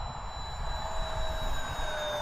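An Eflite A-10 twin 64mm electric ducted-fan RC jet flies at about half throttle under a gray sky, giving a steady, continuous whine with a rushing roar beneath it, moderately loud and holding even for the whole stretch.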